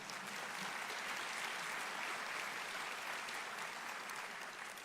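An audience at a State of the County address claps in sustained, dense applause that stays even and loud from start to finish, with no speech over it.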